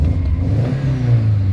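A 2010 Subaru Legacy GT with the turbocharged 2.5T engine, fresh from a motor mount replacement, revs up close, a deep steady engine drone rising and holding through a short burst with no talking.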